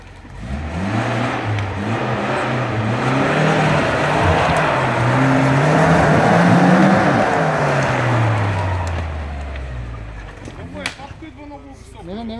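An off-road vehicle engine revs hard at full throttle while climbing a steep slope. The low growl swells to a loud, straining peak and then fades, with voices talking faintly near the end.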